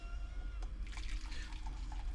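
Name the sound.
draining water off cooked instant noodles into a cup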